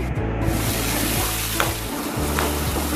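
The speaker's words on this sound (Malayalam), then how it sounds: "സവാള ഒന്നങ്ങ് വഴറ്റിക്കഴിഞ്ഞാൽ നമുക്ക് നമ്മുടെ പച്ചമുളകും കൂടെ അതിലോട്ട് ചേർത്ത് കൊടുത്ത് നന്നായിട്ട് വഴറ്റിയെടുക്കണം" Onions and green chillies sautéing in a pan for a traditional Kerala sardine curry, a steady close sizzle with light scraping stirs over a low hum and no voices.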